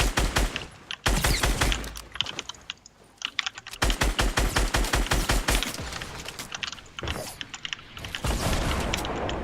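Rapid gunfire rings out in an online shooter match: dense bursts of automatic fire come in long volleys, briefly pause, then resume, loud and close, with no talking.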